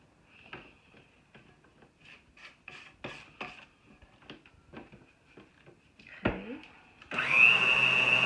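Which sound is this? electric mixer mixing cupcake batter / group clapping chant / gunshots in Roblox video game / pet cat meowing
electric mixer mixing cupcake batter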